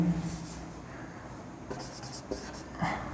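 Pen or chalk writing out the solution to a class 10 science electric-current problem on parallel resistors R1 and R2, a soft continuous scratching with a few light taps, faint and close, with no talk.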